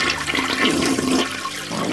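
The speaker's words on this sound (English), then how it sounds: "we made Toilet flush sound" A toilet flush plays as a sound effect, a loud rushing swirl of water that fills the whole two seconds with no voices over it.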